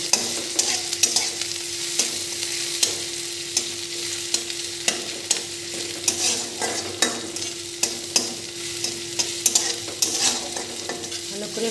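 Chopped ginger and garlic fry for chicken Manchurian, with a loud continuous sizzle and frequent, irregular spatula scrapes and taps against the pan.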